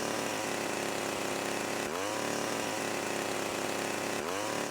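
A malfunctioning chainsaw sound effect from the GTA Definitive Trilogy game, a loud, continuous buzzing drone with two abrupt glitchy restarts that break the pitch and sweep back up.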